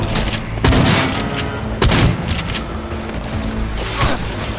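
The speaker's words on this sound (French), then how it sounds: "On tire dessus!" Gunfire rings out in the Cyberpunk 2077 video game, several sharp loud bursts and booms over about four and a half seconds amid a dense, noisy mix of other game sounds.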